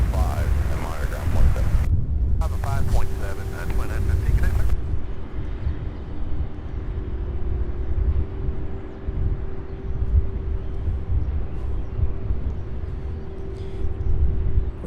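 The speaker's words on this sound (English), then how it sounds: "Our next MD-11 coming in, lining up with 17" A UPS MD-11 cargo jet approaches to land on runway 17 right at Louisville's airport, its engines heard as a steady distant roar with faint wind, while people talk briefly at the start.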